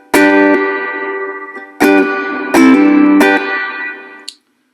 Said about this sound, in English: A short reverb, very short, to a very long reverb.